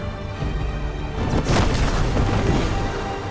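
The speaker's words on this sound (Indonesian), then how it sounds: "Monorail itu pun jatuh ke bawah dan meledak bersama Ra's al Ghul" A monorail car crashes down and explodes in a Batman film scene, a loud sustained boom with rumbling crash swelling midway and holding under a dense, roaring film soundtrack.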